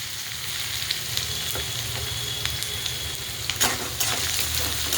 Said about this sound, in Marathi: आता फोडणीसाठी कांदा टाकूया.